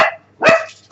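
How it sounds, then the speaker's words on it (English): Household dogs barking indoors: two or three sharp, loud barks in quick succession, close by, with no speech over them. "the dogs are barking"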